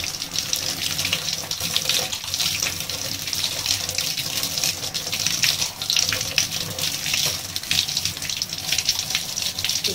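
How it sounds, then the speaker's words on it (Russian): Water runs from a tap onto a sock-covered hand, a loud, steady gushing splash that continues without a break. "Открываем водичку с вами."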